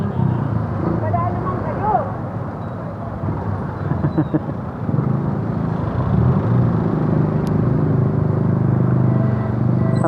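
Heavy road traffic on Quirino Highway, a steady close rumble of cars and motorcycles with engine drones rising and fading, voices chatting over it throughout.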